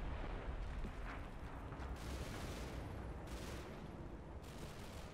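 Mortar shells landing out in the open in the Combat Mission: Fire and Blood video game, a steady rumble of dull blasts and crackling fire throughout, without talk.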